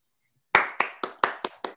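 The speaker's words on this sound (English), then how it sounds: "Thank you for that real clap." A lone round of hand clapping after a science lecture: six sharp, separate claps in quick rhythm after a short silence, close and fairly quiet.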